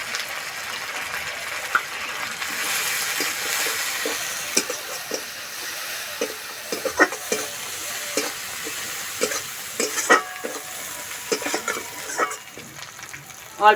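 Spice paste with a little chili and turmeric powder fries in oil with onions for a rohu fish dish, giving a steady sizzle broken by scattered scraping and clinking stir strokes, fairly close.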